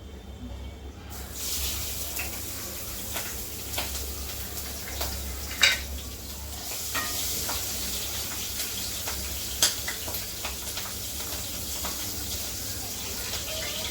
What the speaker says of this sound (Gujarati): હવે છે ને મરચાં નાખી દઈએ લીલા